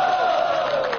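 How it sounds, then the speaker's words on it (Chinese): A television studio audience welcomes guests onto a stage with a loud, sustained crowd noise that sounds like cheering rather than clear clapping, and it holds through the whole moment. "掌声有请"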